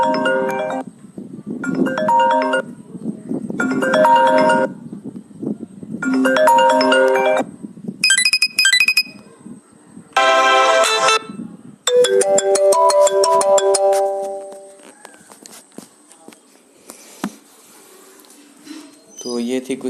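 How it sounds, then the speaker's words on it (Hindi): A series of iPhone X notification tones played from an app: short electronic chimes and melodic jingles, each separated by brief silence, loud and clean. Later tones turn into rapid sparkling arpeggios and a longer sustained figure. "उसके बाद बात करें नोटिफिकेशन टोन्स की"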